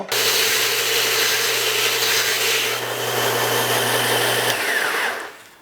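A 0.5-horsepower disc and belt sander grinds a wood face pressed flat against the abrasive, a loud continuous motor whine and gritty rasp that holds steady for several seconds before spinning down at the end.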